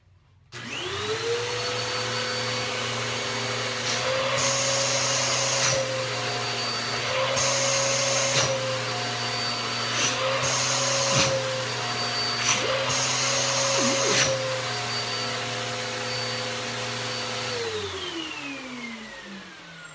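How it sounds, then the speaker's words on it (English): A vacuum cleaner with a handheld attachment runs as a loud, steady whining drone. Its pitch and tone shift several times as the suction is briefly blocked and released, then it winds down at the end. "turn on your vacuum cleaner and you're gonna do this"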